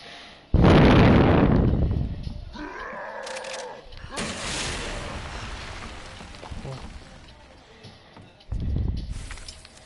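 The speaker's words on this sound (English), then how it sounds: "this rocket launcher's got some distance" Rocket launcher fire and explosions in Resident Evil 2, a loud booming blast with a long rumbling decay, followed by game noises and a second heavy explosion near the end.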